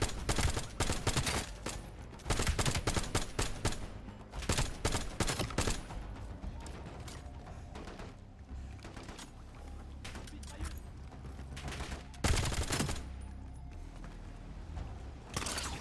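Machine gun fire in the Black Ops 7 campaign, a dense stream of loud bursts and rapid shots that runs almost without pause and has brief lulls between volleys.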